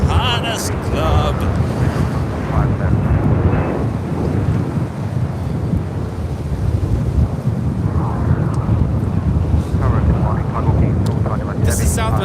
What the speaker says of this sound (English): 505 coming in from Phoenix on a 737-700 in the Arizona 1 livery